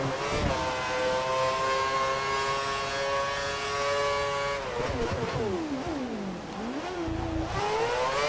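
Race car engine in the F1 2013 video game, a loud high-pitched whine holding steady, then dropping and climbing again through downshifts and acceleration around a corner, no talk.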